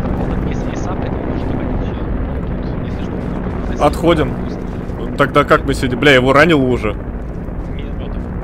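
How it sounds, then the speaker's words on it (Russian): In an Arma 3 battle a helicopter rotor drones low and steady throughout, with several people talking over it. "Так это вертолет."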